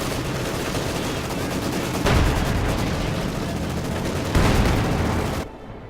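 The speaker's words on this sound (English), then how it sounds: "Field gun gets off a nice hit there between two" Field gun and other artillery firing in a Company of Heroes 2 battle, heard as a dense, continuous rattle of gunfire with two louder booming impacts standing out, then an abrupt drop in level near the end.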